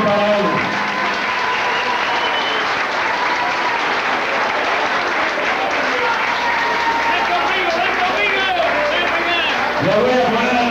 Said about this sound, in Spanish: a Nieves Romero, un aplauso grande para él